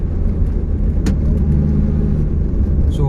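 A rare Nissan March Super Turbo (PT12) with a supercharger runs roughly after restoration, a steady low engine rumble with a faint uneven throb and a brief sharp knock partway through.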